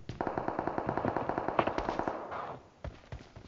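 Rapid automatic gunfire in the mobile battle royale game PUBG Mobile, a sustained, loud burst of evenly spaced shots that breaks off, followed by a few isolated single shots.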